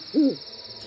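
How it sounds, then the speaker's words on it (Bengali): A single soft owl hoot sounds at night, distant and brief, over a faint background hum. "দূরে পেঁচার ডাক শোনা যায়।"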